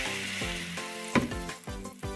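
Water hits French beans frying with turmeric in a pan for a Goan foogath, giving a sharp burst of sizzling over a steady background hiss with a faint tonal hum.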